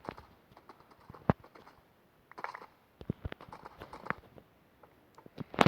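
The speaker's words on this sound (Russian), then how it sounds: "Лошадка." Horse hooves clip-clop in a video game, a series of irregular sharp knocking steps, some in quick clusters and others spaced apart, fairly faint and heard alone.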